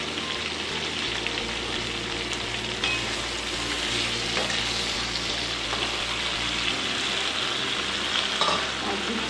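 Crab stalks, vegetables, spices and a small tomato frying in a pan for a Bengali vegetarian curry, a steady loud sizzle with stirring scrapes throughout and no talk.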